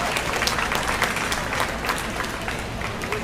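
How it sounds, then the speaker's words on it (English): An audience around a 4-H/FFA sheep showmanship ring gives steady, enthusiastic applause, a dense crowd of clapping hands sustained for a few seconds with faint voices underneath. "Let's give them all a big round of applause."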